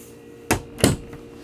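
Two quick thuds of cabinet drawers on a Sea Ray 500 Sundancer boat cabin, a sharp knock followed by a second louder slide-and-bump, close and alone with no talk.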